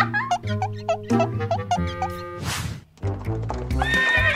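Cartoon horse pulling a carriage gives a loud whinny, with hoof clip-clops and bright musical tones throughout.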